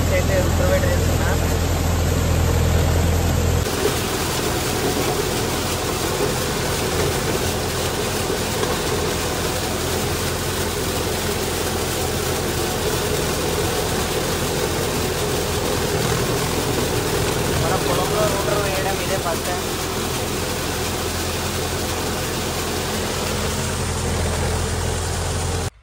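A tractor pulling a rotavator through a farm field runs with a steady, loud diesel drone throughout, a constant mechanical rumble with no break.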